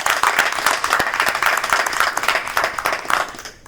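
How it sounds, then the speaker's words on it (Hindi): An audience claps warmly at an Independence Day poetry recital, with steady, lively applause holding for several seconds before it tapers off. "और जोरदार तालियां।"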